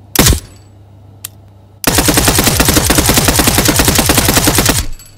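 Gunfire rings out in the video game Transience: one sharp shot, a faint click, then a long loud burst of rapid automatic fire lasting about three seconds before it cuts off.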